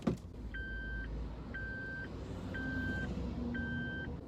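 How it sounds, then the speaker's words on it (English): A 2019 Suzuki Jimny 4x4 sounds its seatbelt warning chime, four evenly spaced steady electronic tones, each about half a second long, repeating about once per second inside the cabin with no one speaking. "the seatbelt warning noise when you don't have your seatbelt on"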